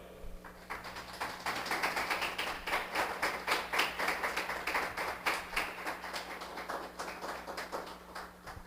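A church congregation claps for the Lord in rhythmic unison, steady evenly spaced beats forming a sustained rolling pulse under a faint low hum, continuing for the full stretch with no speech.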